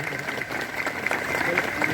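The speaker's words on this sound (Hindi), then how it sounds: "आप सभी से विनती करूंगा कि इन दोनों महानुभावों के लिए आप जोरदार ताली बजाकर स्वागत करें" A community gathering welcomes two guests with loud clapping from the crowd, the applause continuing throughout alongside some background voices.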